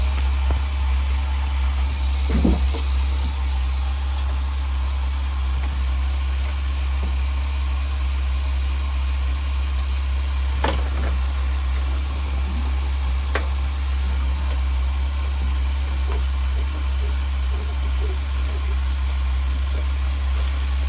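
A Tamiya TGS-R nitro RC engine runs on factory carburetor settings during its second tank of break-in, droning loud and steady close up with a few faint knocks and clicks.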